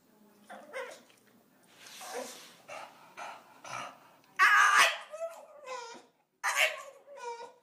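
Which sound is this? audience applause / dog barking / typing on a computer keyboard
dog barking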